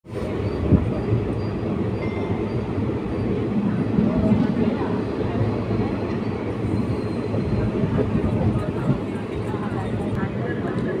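Ratnachal SF Express passenger train pulling out of Vijayawada Junction, a steady, close rumble of rolling wheels and carriage noise from on board, continuous for the whole stretch with faint voices in the background.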